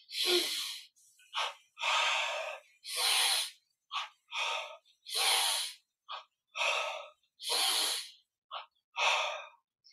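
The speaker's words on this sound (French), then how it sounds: "Maintenant, on inspire, on contracte, expire, on relâche." Slow, deep breaths drawn in and pushed out during a guided French breathing and meditation exercise, a dozen close, loud, airy bursts of uneven length separated by brief silences, with no talking.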